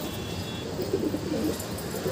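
A pet pigeon gives a low, throaty coo over a steady background hum, brief and fairly soft.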